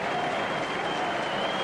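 Rugby league crowd at St Helens cheering and applauding a try, a steady, dense wash of clapping and roaring from a large stadium audience, with no break.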